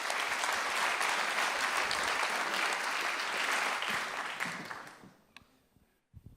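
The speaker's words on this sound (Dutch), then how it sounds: "Geef Francisca een warm applaus." An audience at a Dutch agriculture talk gives a warm round of applause, a full, sustained clapping that fades out after about five seconds into near quiet.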